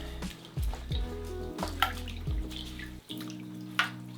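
Fluval canister filter sponges are squeezed in a bucket of water, giving close splashing, squelching and trickling sounds in uneven bursts, with water dripping and pouring back into the bucket.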